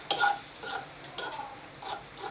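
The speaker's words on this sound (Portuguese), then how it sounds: "já tá mexendo nas panelas" Pots and pans handled on a farmhouse stove while lunch is cooked, with a few light metallic clinks and scrapes spread over a couple of seconds, close and fairly quiet against a soft room background.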